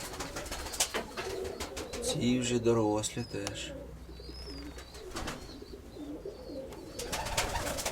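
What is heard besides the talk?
pigeons cooing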